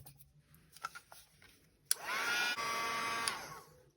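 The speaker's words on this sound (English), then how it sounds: "Okay, I'm gonna take out my dryer again." A handheld heat dryer used to dry thick paint in a junk journal starts with a click and whirs steadily for about a second and a half before switching off, following a few faint rustles.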